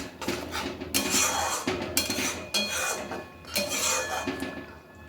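A utensil stirs sugar into a cooking pot, clanking and scraping against the metal in several distinct, fairly loud strokes with short pauses between.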